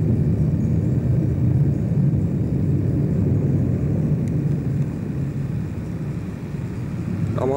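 Military jet aircraft taking off from an airbase during the January 1991 Gulf War, a loud, broad continuous rumbling roar that eases slightly toward the end, with no voices.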